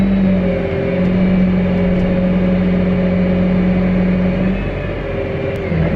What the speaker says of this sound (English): We'll see if I remember how to fold the planter up